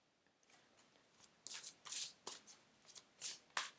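Tarot cards being shuffled by hand, with a few faint riffles at first and then a run of crisp, papery bursts in quick succession, close by and with no talking.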